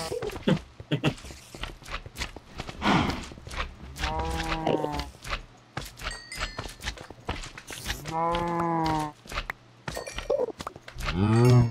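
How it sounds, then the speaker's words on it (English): A herd of cows lows in a video game, several drawn-out moos overlapping across the scene and fairly close, with game footstep sounds and small effects in between. "I hear lots of cows."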